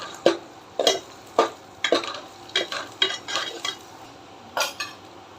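Curry leaves and green chillies are stirred in a pan for egg thokku, with about nine crisp, evenly spaced scrapes of a spoon against metal over a faint background, and no voices.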